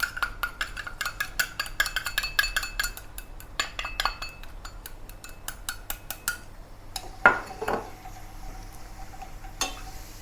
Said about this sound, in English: Return the strained shallot oil to the pan. And use it to fry the garlic